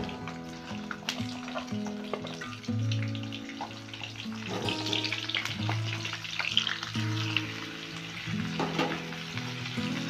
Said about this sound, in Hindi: गोभी को भी फुल फ्लेम पे फ्राई कर लेंगे।